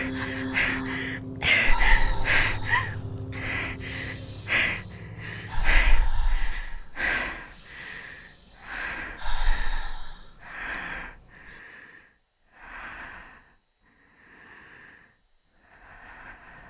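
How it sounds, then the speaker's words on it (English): Slow, deliberate breathing sounds close to the microphone. Heavy gasping inhales and drawn-out exhales repeat, loud at first, then settle into softer, evenly spaced breaths that fade over time. "Breathe with me"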